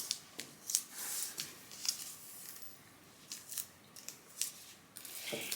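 Scissors snip through t-shirt knit fabric in a series of short, crisp cuts at an irregular pace, heard close but faint and quiet, with no voices.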